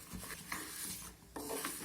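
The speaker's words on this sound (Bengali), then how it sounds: "আমি এটা শুকনো খোলায় এভাবে একটু নাড়াচাড়া করে ভেজে নেব" Mung dal being dry-roasted and stirred in a dry pan over a gas flame, a close, steady gritty rustle and scrape with a brief lull partway through.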